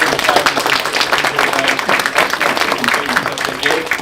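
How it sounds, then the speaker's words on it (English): An audience at a forum applauds presenters, with steady dense clapping throughout at moderate loudness and no pauses. "let's have a round of applause for all of our presenters."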